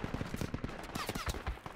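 Rapid bursts of infantry gunfire in the military shooter game Project Reality, on the Saaremaa map, dense overlapping rifle and machine-gun shots crackling continuously at close to mid range, no voices.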